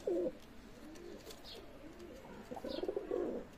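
Pakistani teddy pigeons coo softly at close range, giving a few low, rolling calls at the start and again near the end, with faint background noise between them.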